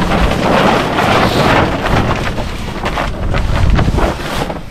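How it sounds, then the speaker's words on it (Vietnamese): Strong wind buffets a fishing boat on cold water near Cambodia. It is a loud, continuous roaring gust with rumbling microphone wind noise throughout, and there is no talk. "Gió"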